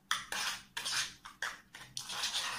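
A spoon scrapes and clinks against a bowl in short, sharp bursts while herbal oil and turmeric are mixed into a face scrub, close and fairly quiet.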